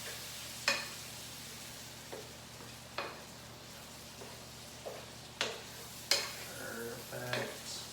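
Onions and celery sautéing in butter in a pan for Southern cornbread dressing, a soft steady sizzle with several sharp utensil scrapes and clinks against the pan, fairly close.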